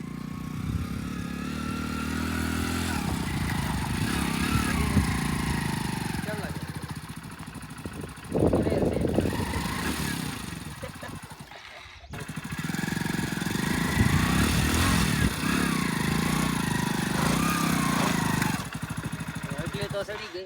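A Hero Splendor motorcycle labours off-road up a rocky hill, its engine droning and revving loudly, dropping briefly before surging again, with voices talking over parts of the ride.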